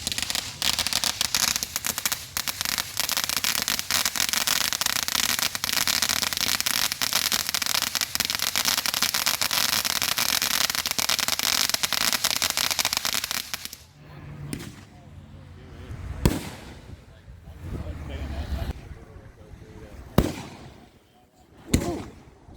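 Home fireworks go off in a rural Fourth of July celebration, first as a long, dense barrage of crackling bursts, then as a few separate loud bangs with quieter gaps between them.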